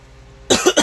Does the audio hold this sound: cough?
yes